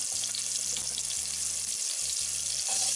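Onions sautéing in a pot for a vegan red bean and butternut squash dish, giving a steady, close, bright sizzle that carries through the whole stretch without pause, with a low hum underneath and no voices.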